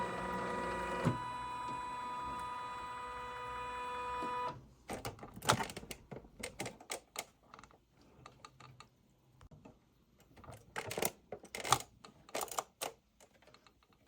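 An embroidery machine stitching to tack down fabric runs at a slow speed setting, first as a steady whirring hum, then as a dense, irregular ticking and clattering of stitches, close and fairly quiet.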